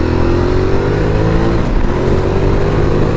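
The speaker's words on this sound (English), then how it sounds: "Throttling up on this bike is absolutely freaking nuts" A 2019 Ducati Multistrada 1260 Pikes Peak Edition motorcycle throttling up, its engine a steady, loud, close roar that holds strong and dense for the whole stretch with no voices over it.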